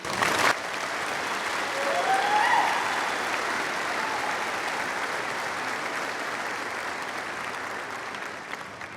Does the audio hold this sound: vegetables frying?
no